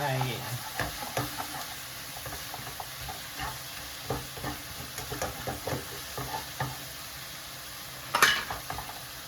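Chicken and tomato spaghetti ingredients are stir-fried in a pan, with repeated scraping and clattering strokes over a soft sizzle and a brief louder clatter near the end.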